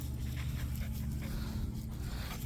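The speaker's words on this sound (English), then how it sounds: "Oh, dogs." A dog pants close by on a ranch: a steady, rapid rasp of breath that runs for the whole stretch, fairly loud and unbroken.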